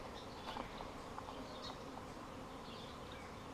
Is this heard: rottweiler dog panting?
no